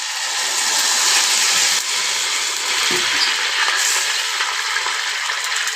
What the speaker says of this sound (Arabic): هقلب كده لحد ما تديني ريحه بسيطه ولون بسيط كده للثوم